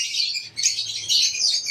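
Many small birds chirp and twitter continuously in an aviary selling Aqua birds, a dense high-pitched chatter close by with no talking.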